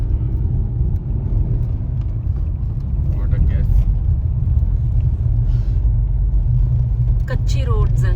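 A car driving on a rough, unmaintained dirt mountain road, a steady heavy low rumble of engine and road noise throughout, with people talking inside over it.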